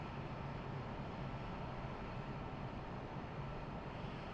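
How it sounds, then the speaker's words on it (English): A Dassault Mirage 2000C jet engine spools up in a cockpit in DCS World, a steady broad roaring rush with constant loudness throughout, dense and unbroken, heard alone without talk. "It sounds like the engine is starting up again."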